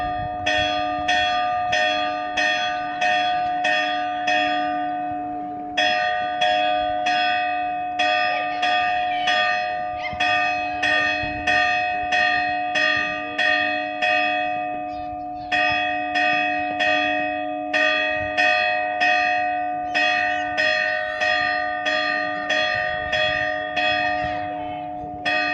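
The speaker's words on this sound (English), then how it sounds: "Sorry about the bells. Them bells, them bells." Church bells peal in a steady sequence of bright, resonant strokes, each ringing out and decaying before the next. They are loud and close, with brief pauses between rounds.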